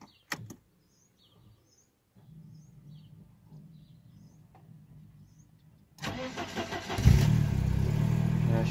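A Mercedes 190E 2.0 engine cranks and catches at about six seconds, then settles into a steady, loud idle after a brief rev; faint clicks and quiet hum before.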